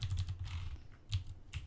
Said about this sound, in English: you want to go to your console and type move_campath